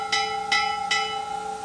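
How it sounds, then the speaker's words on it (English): Ship's bell aboard the WWII destroyer escort USS Slater, struck three times at an even pace, each clear metallic strike ringing on with a sustained tone, close and alone. "So there's bells everywhere, and you can pull it and ring the bell, tell you what time it was."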